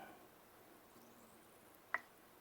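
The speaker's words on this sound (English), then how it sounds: "You just heard a bubble pop." A single small bubble pops while cast iron is being seasoned, a faint quick snap standing out against a quiet background hiss.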